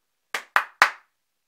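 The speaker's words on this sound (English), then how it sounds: "hands are well sore from all the clapping." Hands clap three times, crisp and close, in quick succession with a short pause before the last clap, then silence.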